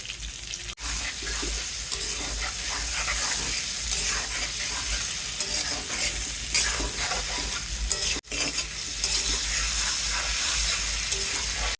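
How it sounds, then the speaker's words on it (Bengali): New potatoes, seasoned with salt and turmeric, frying in oil in a pan with a close, continuous sizzle and occasional stirring, steady throughout with two very brief breaks, and no talk. "আলুগুলি লাল করে ভেজে নিলাম"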